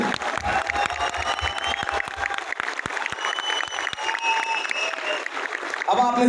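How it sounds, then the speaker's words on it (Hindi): An audience claps loudly and steadily at a live business seminar, the dense applause mixed with some crowd noise and a few scattered whistles before it tapers off. "इनके लिए जोरदार ताली लगाएं"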